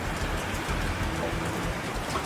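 Heavy rain ambience in the Primitive Society Simulator video game, a loud, even roar of falling water that stays constant through the brief stretch, with no talking.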